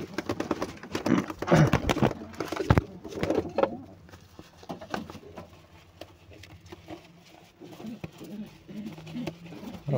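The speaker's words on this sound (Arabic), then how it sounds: "يلا نطلع الحمام اللي مقصوص كله بره" Clipped-wing pigeons coo softly at an Egyptian loft, low murmuring calls under scattered wing flaps and handling noises, busier at first and then settling into a quieter background.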